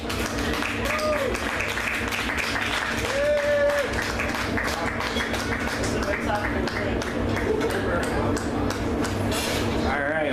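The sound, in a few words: audience applause after a performance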